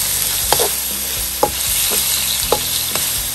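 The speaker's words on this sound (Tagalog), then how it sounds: "Sautein na natin yung itong ating onion." Onion and garlic sizzle and are stirred in a pan with browned pork, giving a steady close frying hiss broken by several scraping stirs of a utensil against the pan.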